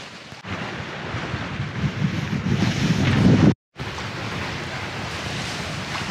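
Wind and sea surround a Leopard 45 cruising catamaran under sail on flat water, a steady rushing wash and microphone wind building gradually, broken by one brief dropout before resuming at a lower level.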